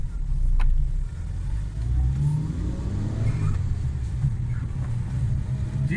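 A Suzuki Alto 1000cc car, recently tuned after a missing, starting, pickup and fuel fault, drives along with its small engine humming and revving up steadily from inside the cabin, no talk over it.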